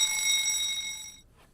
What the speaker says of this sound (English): So now we got the fire alarm here in the MTI.